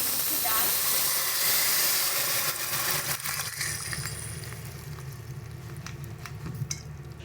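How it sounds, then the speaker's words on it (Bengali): Moong dal with bottle gourd bubbling in a pot, a dense hissing, steamy roil that is loud at first and then settles into a softer simmer with faint clinks. "দেখো ডালটা কি সুন্দরভাবে ফুটছে"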